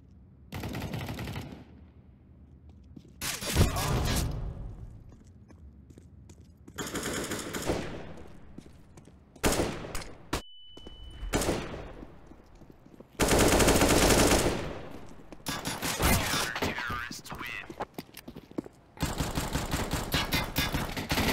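Rapid bursts of automatic gunfire from a Counter-Strike style shooter game, loud and close, with repeated volleys separated by short pauses and occasional sharp single shots.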